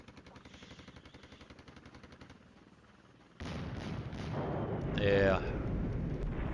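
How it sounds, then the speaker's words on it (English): Russian artillery fire in the Flashpoint Campaigns: Red Storm wargame, heard as a sudden loud burst of booming impacts after a quiet rhythmic stretch, then continuing rumbling blasts with a voice speaking briefly over them. "Lord, Russian artillery."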